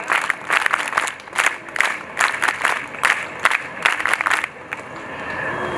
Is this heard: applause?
yes